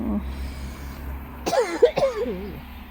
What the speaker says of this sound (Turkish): Öksürük mü oldu anne?